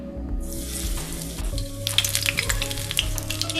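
Chicken pakora deep frying in hot ghee, a steady loud sizzle and bubbling that crackles with sharper pops in the second half, close up with no talking.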